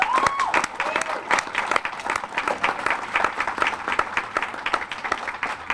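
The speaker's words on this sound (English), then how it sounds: "You deserve a round of applause, I think." Audience applause at a library ribbon cutting ceremony, many hands clapping in a dense, lively burst, close and sustained, with a few voices calling out underneath.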